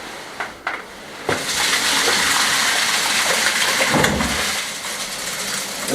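Mixed floor compound is poured out during a kitchen renovation, a thick continuous gushing rush that starts after a couple of knocks and runs steadily before easing slightly.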